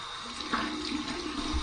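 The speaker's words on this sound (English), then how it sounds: "All right, here's my cold water rinse." Cold water running from a bathroom sink tap for a rinse after a shave with a Parker 96R razor, a steady, fairly quiet splashing flow with no talking.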